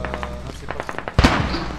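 Gunfire in the military shooter game Squad: a few light distant pops followed by one sharp nearer crack, with a voice talking over the shots.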